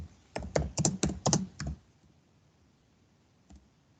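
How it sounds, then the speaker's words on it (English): Bursts of computer keyboard typing in a quiet room, a quick run of clacking keystrokes for under two seconds, then near silence with one last faint key tap. "And I hate typing."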